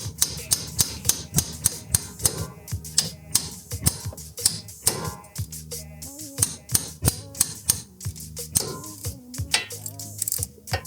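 Rapid sharp metallic taps ring out in quick irregular bursts, close and crisp, as a hammer strikes a 2016 Mazda 6 front brake rotor to loosen it, over a faint background of music.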